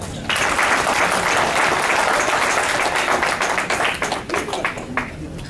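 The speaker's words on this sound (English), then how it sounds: "Again, a big round of applause." Sustained audience applause at a Liberian community association inaugural program in New York, a dense wash of many hands clapping that starts abruptly, holds steady, and thins out toward the end.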